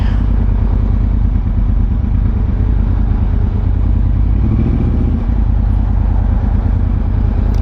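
A Yamaha R1 sport motorcycle engine rumbles loudly and steadily throughout, close up, riding in London traffic with traffic noise and wind around it.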